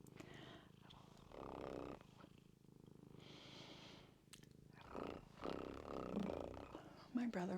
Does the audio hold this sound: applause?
no